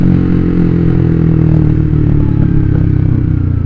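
A motorcycle being ridden through a student boarding-house neighborhood, its steady engine drone loud and close throughout, with rattling clatter over the hum and no talk.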